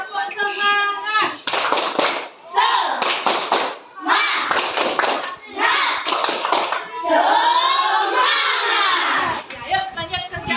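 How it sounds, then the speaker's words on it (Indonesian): Classroom of primary school children doing a rhythmic spirit clap, bursts of hand claps and taps in patterned groups mixed with children's voices chanting along, loud and close. "Kita tepuk semangat dulu ya. Ya, tepuk semangat."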